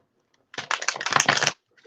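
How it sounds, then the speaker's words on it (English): A deck of psychic reading cards is shuffled in one close, dense burst of rapid riffling clicks lasting about a second, surrounded by quiet. "these cards are so hard to shuffle"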